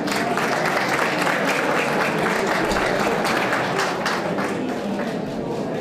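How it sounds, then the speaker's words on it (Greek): An audience at an art exhibition opening on Imbros breaks into loud, warm applause, a dense continuous clatter of many hands that holds steady for several seconds. "με ένα μεγάλο ζεστό χειροκρότημα να ζητήσω να έρθει κοντά μου ο ευεργέτης της Ιμβρού"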